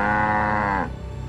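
A cartoon cow gives one long, loud, harmonic moo that holds steady and then cuts off, leaving faint background sound.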